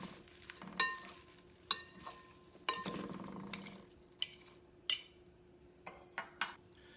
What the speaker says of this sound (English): At this point, you should toss, get the salt and pepper evenly